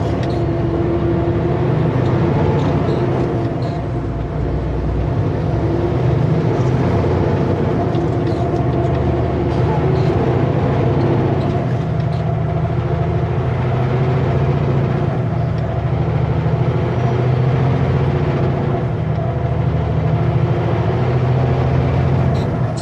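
A loaded lumber truck pulls away hard in first gear, its heavy engine drone loud, close and continuous throughout with a strained, labouring rumble.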